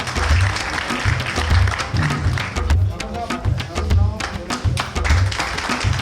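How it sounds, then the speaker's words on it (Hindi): A crowd applauds to welcome guests at an honouring ceremony, with dense, fairly loud clapping over a steady rhythmic thumping beat. "एक बार जोरदार तालियों के साथ सभी अतिथियों का स्वागत।"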